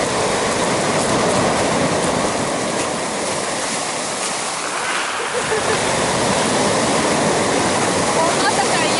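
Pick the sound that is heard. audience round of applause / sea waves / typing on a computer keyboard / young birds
sea waves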